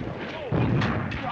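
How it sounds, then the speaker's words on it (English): Artillery shellfire bursts across a target range in two sharp, heavy blasts, loud and close over a dense rumbling background, with a faint voice in the mix. "It's real shellfire!"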